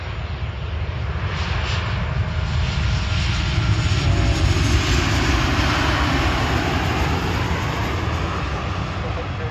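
A Southwest Airlines jet in a special heart livery at Cleveland airport on a foggy evening gives a steady, loud roar of engines that fills the whole span without pause.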